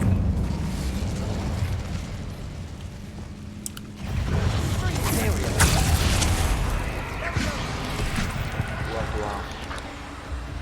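Fire spell cast in Hogwarts Legacy: a loud whooshing burst and crackling blast of game effects that swells midway, with someone talking over and around it.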